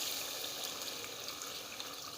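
Water pours steadily into a pot of chicken and pea curry, a soft, constant splashing hiss that stays faint throughout, with no talking.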